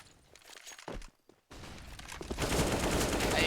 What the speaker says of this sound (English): AK comes in for Annihilation, deals with Cabal